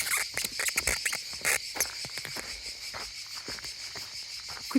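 Cicadas singing in sunny pine woods near Tourrettes-Levens, a dense continuous high buzzing chorus, with close footsteps and rustling crunching underfoot through much of it.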